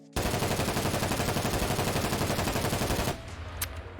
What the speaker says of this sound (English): if you do shoot a gun in the hideout